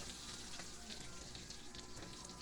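Shrimp sizzling in a hot wok, a steady close crackle and hiss of frying with faint pops throughout.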